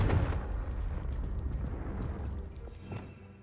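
A Confringo blasting spell in Hogwarts Legacy sets off a deep booming explosion that is loud at first, then rumbles and fades over a few seconds, with faint crackling debris.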